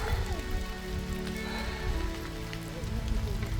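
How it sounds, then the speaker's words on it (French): Rain falls in the cloudy, misty volcanic mountains of Auvergne, a steady close patter of drops spattering on surfaces, with an undertone of wind and gear noise throughout. "Voilà, il pleut, il pleut, il pleut, il pleut."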